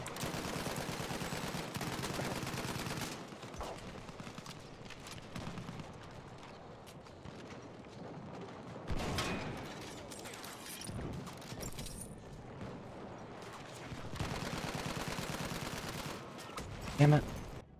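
Dense gunfire from the video game Battlefield 1, with bursts of rifle and machine-gun shots, distant explosions and battle noise running steadily throughout. A voice talks over the fighting, and a louder blast comes near the end.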